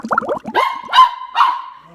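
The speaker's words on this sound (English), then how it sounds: "Mom, the dog's barking at something." A dog barks several times in quick succession inside a home, sharp and close, the barks running into a longer ringing whine near the end.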